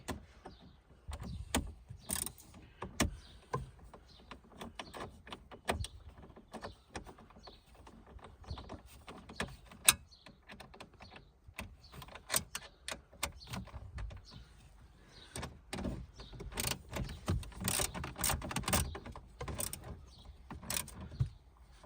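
Parts being tightened on a Vauxhall Astra Excite salvage rebuild, with scattered close metallic clicks, ratchet ticks and clunks coming in irregular bursts over a quiet background.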